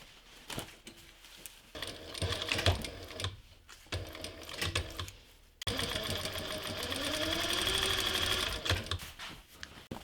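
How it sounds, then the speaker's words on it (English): A sewing machine stitches a straight seam through fabric for an 18th-century costume, giving steady rapid mechanical chatter in several bursts, quiet in between, with a longer loud continuous run near the end. "I will fold in the edges and sew a straight seam on the machine."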